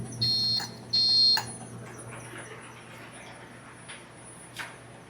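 Overflow alarm on the honey bucket of a Lyson 30-frame Optima honey extractor, two short, high, shrill electronic beeps close together, followed by quieter room noise and faint clicks under a steady hum.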